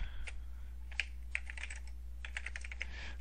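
Someone types a password on a computer keyboard, a quiet burst of irregular close key clicks over a low hum, with no voices.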